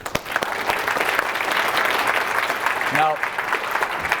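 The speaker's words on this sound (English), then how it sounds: "give him a round of applause for being honest" Audience applause at a live persuasion and sales seminar: dense, steady clapping fills the whole stretch at close range, with a few voices mixed in among the claps.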